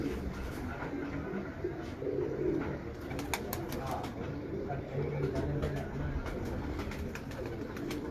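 Pigeons coo repeatedly at a bird-keeping gathering, soft low calls mixed with other bird chatter and background voices talking throughout.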